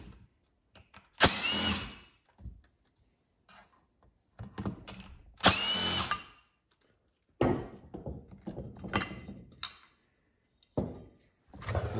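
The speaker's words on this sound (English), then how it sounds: "So I'm gonna pop the muffler off now." A power tool removes the muffler from a Stihl 026 chainsaw with a scored cylinder, firing in several loud, close bursts of a second or two, separated by quiet pauses and small clunks.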